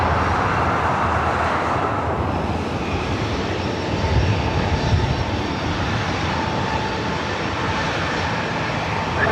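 A Southwest airliner departing runway 24 right at LAX produces a sustained, heavy engine roar, steady and loud with a slight swell midway.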